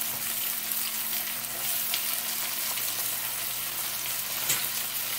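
Onions frying in hot oil for a vegan chole masala, a steady dense sizzle throughout with a faint low hum and a few soft crackles, close and fairly loud, no talking.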